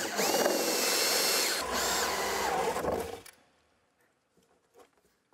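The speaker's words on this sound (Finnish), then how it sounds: "ristin kohdalta ruvetaan poraamaan reikää, eli tämä ensimmäinen tulee tällä 50 millin kuppiterällä" A power drill fitted with a 50 mm hole saw bores a hole through a panel at a marked cross, giving a loud, steady grinding whir for about three seconds before it stops, leaving near silence with a few faint knocks.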